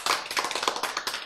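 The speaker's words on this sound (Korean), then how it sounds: "박수" Audience clapping during a Korean church lecture on God and free choice, a short burst of dense, rapid handclaps over about a second with no talk.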